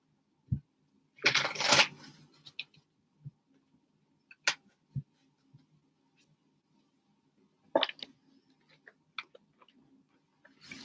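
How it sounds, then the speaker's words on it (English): Tarot cards being shuffled in a brief riffle burst, followed by scattered light taps and flicks as single cards are drawn and laid down, close and quiet with no talk. "I want to throw you one of these other cards"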